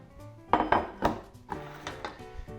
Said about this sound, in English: get our muffin tins ready to go